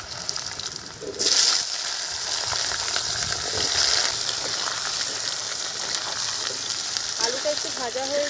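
Potatoes fry in hot oil with cumin and dried red chilli for a village-style banana-stem dish, a loud steady sizzle with a sharper burst early on and faint clinks near the end.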